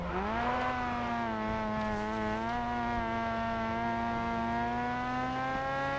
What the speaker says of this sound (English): Car sounds like a mosquito.